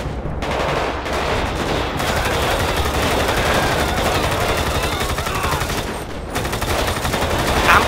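Rapid, continuous automatic gunfire in GTA 5 zombie survival rattles on loudly almost without pause, with a couple of brief gaps between bursts.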